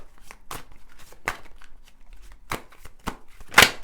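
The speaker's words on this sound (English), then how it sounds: "now I'm just going to shuffle these cards" Tarot cards are shuffled by hand in a series of crisp riffling bursts at an irregular pace. The sound is close and fairly loud, with a sharper snap near the end and no speech over it.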